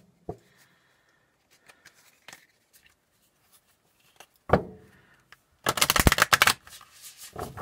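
Oracle cards are handled with a few soft taps and slides, then a brief, close riffle of shuffling near the end, quiet and without talk.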